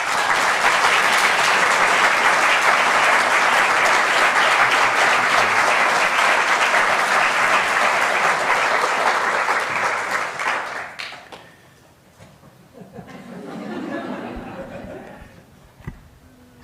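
Audience applause welcoming a potter to the stage at a talk: loud, steady clapping from a large crowd for about ten seconds, then fading out into quieter room noise with a few scattered claps.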